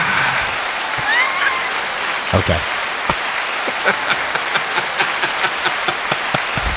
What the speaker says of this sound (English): We discovered the applause and the boom. Onboard effects.